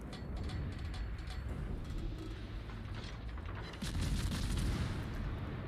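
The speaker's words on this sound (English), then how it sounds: "based off of where that shell explosion was" Naval gunfire and shell explosions from a long-range American Tier 9 cruiser battle in World of Warships, a dense, continuous roar of booming shots with a louder surge near the end, no talk.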